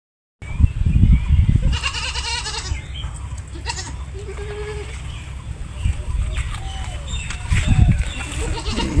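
A goat kid recovering from a dog bite bleats several times, close by, with brief cries spread across an outdoor farmyard scene, other livestock and birds faintly in the background and some low rustling in between.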